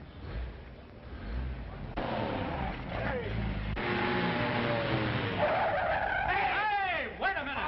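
Tires squeal and skid on a car in a 1941 film street scene, with long rising and falling screeches over a loud engine. Voices shout briefly under the noise.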